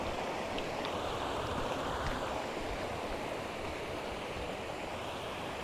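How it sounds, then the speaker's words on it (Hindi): A small waterfall of light water pours steadily at a rural fishing spot, making a constant, even rushing wash with no speech over it. "तो भाई छोटा सा वाटरफॉल का निर्माण किया जा रहा है हल्का हल्का पानी से"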